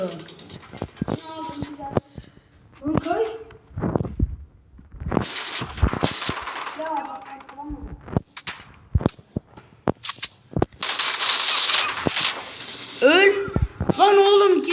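Sharp video game gunshots crack out in scattered single shots and short bursts, mixed with frequent excited talk from a player throughout.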